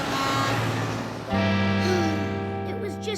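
Cartoon semi truck horn sounding in a steady, loud high-pitched tone over a music-like background, with a second pitch joining partway through and a short rising blip near the end.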